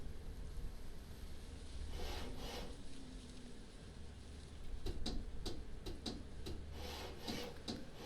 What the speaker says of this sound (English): I hear you sawing and hammering and banging